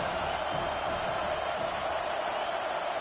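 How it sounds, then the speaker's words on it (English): Dense, steady roar of a college football stadium crowd during a third-down defensive stand in an SMU vs Penn State first-round playoff game, a loud continuous wash of voices with no breaks. "Decibels rising as the crowd gets behind this defense on 3rd down."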